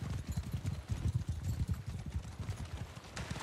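Hoofbeats of horses running in the video game Mount & Blade II: Bannerlord. Rapid, uneven clip-clop thuds pound steadily and fairly close throughout, like several mounts galloping together.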